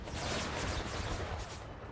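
Massed cannon and musket fire in an Empire: Total War battle mod, a dense, continuous rumbling barrage of overlapping booms and crackles throughout, with no speech.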